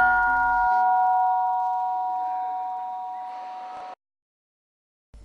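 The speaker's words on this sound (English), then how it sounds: "the gong hit for the breakfast" A monastery breakfast gong rings out with one loud, sustained metallic tone that decays slowly over about four seconds and then cuts off, followed by silence.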